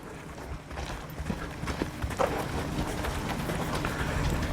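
A nervous mustang mare runs on long lines during ground driving, giving a steady patter of hoofbeats over rustling outdoor background, with no talk.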